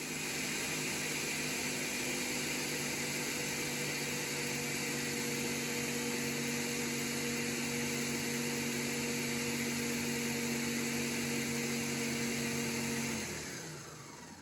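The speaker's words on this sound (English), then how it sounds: "we're going to blend this up for about 15 to 20 seconds" Kitchen blender pureeing tomatoes, onion and garlic for creamy tomato soup, a steady loud motor whine with a constant hum that runs evenly for about thirteen seconds before spinning down.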